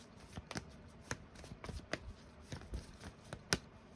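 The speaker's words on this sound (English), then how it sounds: "Let's go ahead and get one more for this, and then we'll cut the deck." A tarot deck is shuffled and cut close up, with a run of crisp card slaps and riffles at an uneven rhythm and one sharper snap near the end; no one speaks.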